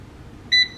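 Emeril Lagasse air fryer gives a single short electronic beep as it powers on, clear and close against a quiet room.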